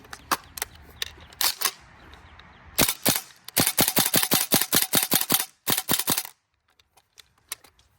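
A Tokyo Marui SAIGA 12k gas airsoft shotgun fires on semi-auto on a single gas fill: sharp, close snapping shots, first a few scattered ones, then a rapid string of evenly spaced shots, a short pause and a few more.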